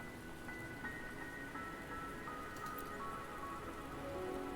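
Steady rainfall in the Wuthering Waves video game, a continuous even hiss of rain on surfaces throughout, with faint tonal game sounds layered above it.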